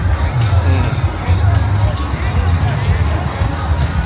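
Lively nighttime crowd on Laboma Beach in Accra, a thick, steady hubbub of many voices with occasional louder shouts, close and continuous.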